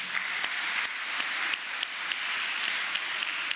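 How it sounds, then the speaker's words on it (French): Applause from a church congregation at a Sunday morning Mass, honouring the liturgy team: steady broadband clapping at moderate level throughout, with a few sharper individual claps standing out. "Nous les applaudissons."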